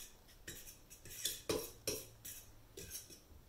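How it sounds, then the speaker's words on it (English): Dry ingredients for apple cider donuts, including salt, baking soda and baking powder, mixed in a bowl: a quiet series of utensil clinks and scrapes against the bowl in an uneven rhythm, with no talk. "So I'm just going to mix all that together."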